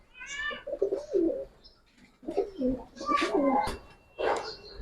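Giribaz and colouring pigeons kept for sale coo in several short, close, throaty phrases separated by brief pauses.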